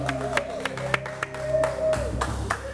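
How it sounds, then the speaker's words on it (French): An audience at a televised fashion-themed talk show breaks into applause for a guest, a short burst of claps under the host's voice with a tonal hum running beneath. "On va l'applaudir très fort."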